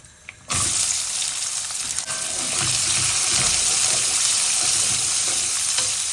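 Onions drop into hot oil in a pan for a bean curry, a brief quiet moment giving way to a sudden loud, continuous sizzle and hiss that holds steady close up, with a few light stirring knocks and no talking.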